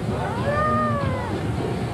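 A house cat lets out a single drawn-out, tonal meow that rises and falls, close and fairly loud over a soft background murmur.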